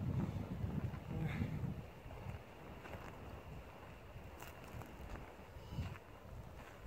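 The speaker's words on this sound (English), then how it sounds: "And it is really windy today." Gusty wind in the Sierra Nevada backcountry buffets the microphone with low rumbling bursts, stronger at first, then a steadier outdoor blow; no clear voices.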